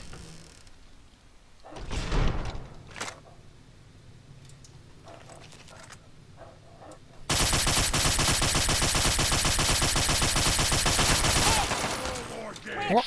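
Chinese assault rifle fire in the video game Fallout 3 near the Jefferson Memorial: after a few scattered sounds, a loud, sustained automatic burst rattles continuously for about four seconds before cutting off.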